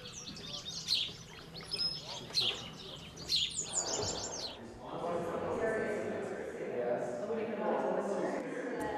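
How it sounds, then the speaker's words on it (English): Small birds chirp and tweet in short bursts outdoors on rural grounds, fairly close, during the first half; a person talks over a low, steady background afterward. "His grounds are just teeming with wildlife, with birds and rabbits and things like that"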